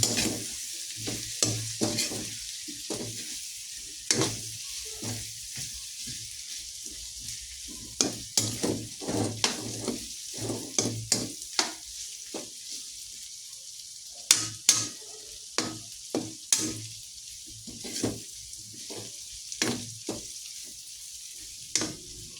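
Food stirred and frying in a pan, a continuous close sizzle overlaid with frequent sharp scraping and clinking strokes of the utensil in an irregular rhythm, with no talking.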